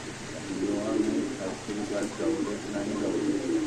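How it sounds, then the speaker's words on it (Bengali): Racing pigeons coo softly at a pigeon loft in Khilgaon, Dhaka, with repeated low throaty calls layered together over a steady background murmur of birds and room noise. "চলে আসলাম আমাদের প্রাণপ্রিয় আদনান ভাইয়ের কবুতর লপটে"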